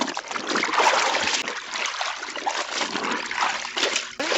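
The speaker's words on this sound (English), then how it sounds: "make it easy in your palm to squeeze the water out" Water splashes and trickles as a hand-washed bed sheet is wrung and squeezed by hand, wet sloshing bursts coming in uneven pulses at close range.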